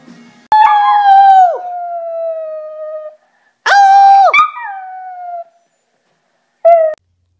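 A dog howls in long, wavering drawn-out cries, one sustained howl followed by a second and a short final yelp-like howl, loud and close with no talk.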